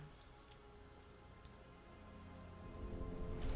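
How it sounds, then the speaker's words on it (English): Steady rain falls across Gotham in the Arkham Asylum game, a soft continuous hiss of drops on surfaces that swells gradually louder toward the end. "Why does it always rain in Gotham when shit's going down?"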